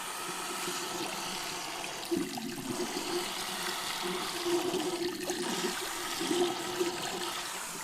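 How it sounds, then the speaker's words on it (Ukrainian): Tap water running steadily into a sink while a beard is rinsed after shaving, a continuous close hiss with uneven splashes and gurgles as the face moves under the stream. "Я роблю це просто запихаю писок під воду."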